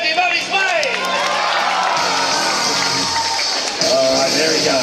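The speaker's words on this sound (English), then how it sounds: "Folks, Team England, are you ready to cheer him on and send him on his way?" Crowd noise in a bar as fans rally behind Team England for a jet-powered stunt rider, a dense steady roar of voices and cheering with a brief dip and a louder swell near the end.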